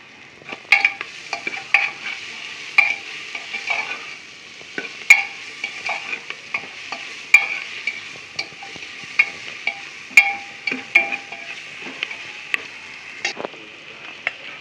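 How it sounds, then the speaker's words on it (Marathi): Onion with salt, turmeric and crushed garlic and ginger fries in oil for a tempering, a steady close sizzle punctuated by regular scraping and tapping of a stirring spoon against the pan. "मीठ टाकल्याच्या नंतर कांदा लवकर फ्राय होतो ना त्याच्यामुळे मीठ टाकलं मी हे बघा आता हळद टाकते"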